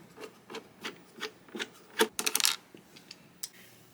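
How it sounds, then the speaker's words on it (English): Cover screw on a Dyson Hot+Cool fan being turned out with a screwdriver: a close series of small, sharp clicking and rasping ticks, roughly evenly spaced, with a denser cluster of scraping clicks midway, no talking. "take your screwdriver and unscrew it"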